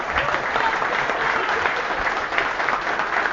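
At a political rally in Londrina, a crowd gives a round of applause for the carpenter Bertolucci, who built a wooden stage. The clapping is thick, continuous and fairly close, with no voices over it.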